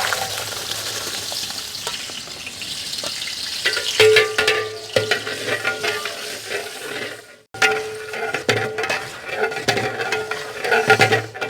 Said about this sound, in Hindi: हमारा ऑयल गरम हो चुका है, तो हमने जो प्याज लिए हुए थे वो इसी में डाल देते हैं।